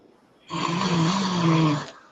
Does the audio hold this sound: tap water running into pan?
no